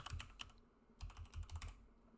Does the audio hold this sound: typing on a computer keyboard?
yes